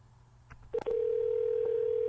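A telephone handset gives a couple of soft clicks and a brief tone, then a steady, loud continuous tone holds for the rest of the clip, with no voices.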